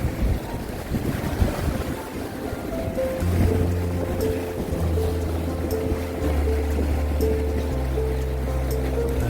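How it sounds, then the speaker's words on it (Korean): Strong sea waves roll onto the shore along the coastal path near Songjeong Beach in Gijang, a constant, wind-buffeted rush with a steady low mechanical hum running underneath. "밀려오는 파도 봐요."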